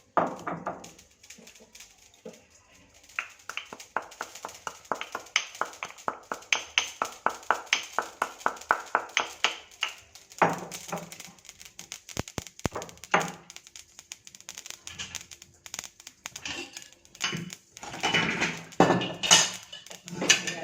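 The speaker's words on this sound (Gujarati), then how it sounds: "બે મરચાં અને આદુનો ટુકડો છે એને પણ બરાબર થોડું ક્રશ કરી દઈશું આ રીતે ખોળણીમાં" Green chillies and ginger crushed in a mortar in a home kitchen, a fast run of sharp pounding knocks that settles into a steady rhythm, then gives way to irregular clatter and scraping.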